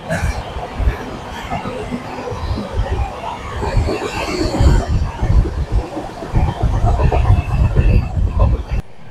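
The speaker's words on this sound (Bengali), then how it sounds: "এখন ট্রেন ঢুকছে সীতারামপুর" Black Diamond Express train running as it enters Sitarampur station, with a steady rumble of wheels and rail noise rising and falling throughout, heard from on board.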